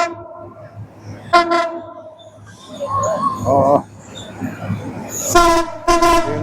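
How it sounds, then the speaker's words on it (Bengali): A train approaches on the Mirzapur railway line in Tangail, Bangladesh, sounding its horn in loud repeated blasts over a rumbling, rolling run, close by, with a person speaking briefly in between. "ট্রেন আসতেছে দেখেন।"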